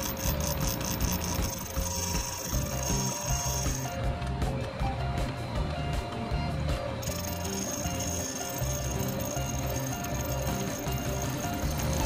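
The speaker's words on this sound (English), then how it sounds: "Now I'm going to clean up the chamfer." Sioux 680 valve seat grinder cleaning up a seat chamfer, a close, loud chattering mechanical grind with ratcheting texture and intermittent high whine that drops out briefly mid-way.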